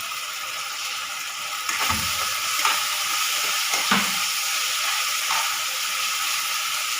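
Potato pieces frying in hot oil for chilli potato, a steady sizzling hiss throughout with a few brief clatters of the spatula or pan, moderately loud with no voices.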